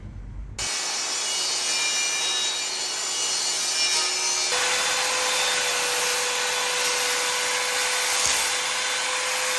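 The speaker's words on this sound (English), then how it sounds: "I make those proper cuts on the table saw and miter saw." Plywood being cut on a table saw and then a miter saw, a steady loud whining buzz of the blade running through the sheet goods, with a pitch shift partway as the cut changes, and no talking.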